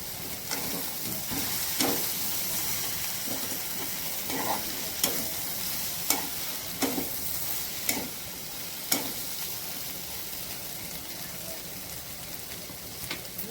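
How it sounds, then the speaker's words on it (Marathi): Ridge gourd pieces stirred with salt in a hot pan give a continuous sizzle broken by repeated scraping strokes of the spoon, each stroke sounding at a loose, uneven rhythm, close and moderately loud. "मीठ घालून पुन्हा एकदा मिक्स करायचं आहे"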